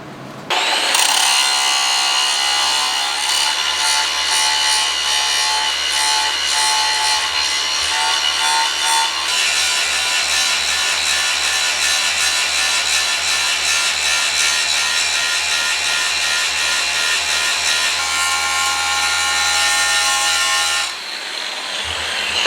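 A jackhammer bit being ground into a blacksmith's set hammer, with a steady, loud abrasive hiss and whine running unbroken for about twenty seconds alongside a low hum, then stopping abruptly near the end.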